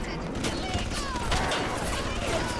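Rapid gunfire rattles continuously in Bioshock, dense and close, with a voice speaking briefly underneath.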